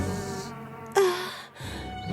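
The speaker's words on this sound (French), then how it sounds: "Juste devant elle se tenait une reine des abeilles immense" A giant cartoon queen bee gives a steady, fairly faint insect-like buzz that holds for about two seconds, with a brief louder swell near the middle and no talk.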